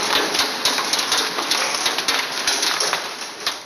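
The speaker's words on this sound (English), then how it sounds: "Pea-sized hail hit Indian Trail right about 6:30 this evening." Pea-sized hail from a storm pelting backyard furniture, a dense, continuous clatter of sharp ticks and taps, loud and close, with no voices.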